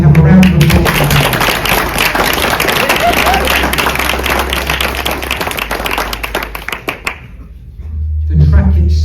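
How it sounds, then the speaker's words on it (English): A crowd at a greyhound racing stadium's Derby final gives a round of applause, with dense, even clapping lasting several seconds before fading; a voice is heard at the start and end. "So can we have a round of applause?"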